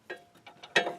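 Short clicking bursts from a 10 mm ratchet snugging the rear brake caliper bolts on a 2004 Chevrolet Tahoe, several quick mechanical clicks in uneven succession, close and fairly faint.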